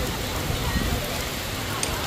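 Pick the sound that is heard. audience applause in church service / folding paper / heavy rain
heavy rain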